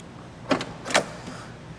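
Door of a 1971 Corvette C3 being opened, two close mechanical clunks about half a second apart, with a fainter rattle after, over quiet background.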